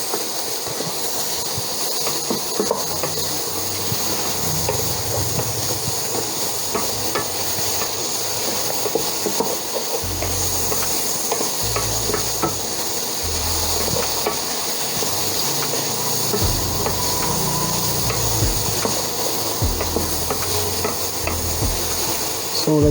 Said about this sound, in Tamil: ஸோ வெஜிடபிள்ஸ் வந்து கொஞ்சம் நேரம் பாயில் ஆகட்டும்.